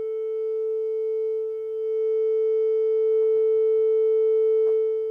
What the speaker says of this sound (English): So I have a wave frequency generator on my phone.